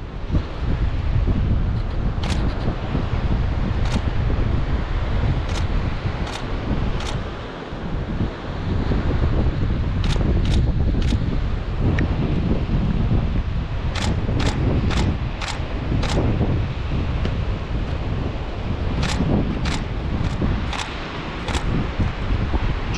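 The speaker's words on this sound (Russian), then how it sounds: "ветер хорошо дует" Strong, steady wind blows hard across an open outdoor spot during a photo shoot, rumbling and buffeting with sharp gusty pops, continuous and loud throughout with no clear talking.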